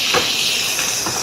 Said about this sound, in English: Okay, see all that steam that came off?